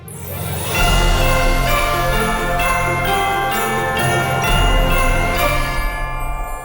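A full orchestral Christmas arrangement plays loud and dense, with jingling sleigh bells, strings, woodwinds and a deep bass pulse driving forward in steady rhythm, with no voices.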